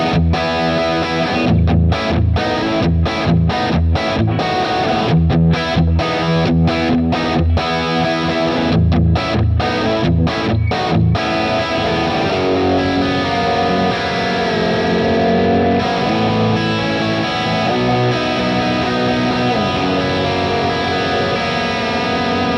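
An electric guitar played through a Kemper 68 Purple Plexi V2 profile with a little reverb rings out loud and distorted, choppy palm-muted stabs giving way to sustained crunchy chords and riffs, with no talking.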